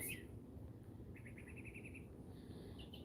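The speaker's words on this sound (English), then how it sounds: "bird friends that sing to me every morning and night" Birds chirp in short bursts over a steady low background hum, a quick trill in the middle and brighter calls near the end, fairly distant.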